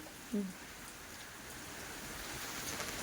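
Steady rain patters down over a broad hiss, with a brief muffled voice near the start.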